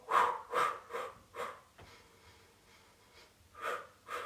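Several breathy exhales and sniffs during a Pilates hundred exercise, in short rhythmic bursts with a quiet gap in the middle, close and fairly soft.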